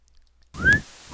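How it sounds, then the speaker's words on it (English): A short rising wolf whistle, bright and quick, after a brief pop, over a faint hiss of static background noise. "noisy wolf whistle."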